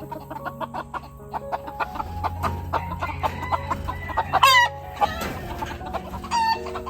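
Gamefowl chickens cluck repeatedly and close to the microphone in a busy, rhythmic stream, with a few sharper squawks and a brief rooster crow rising above the chatter.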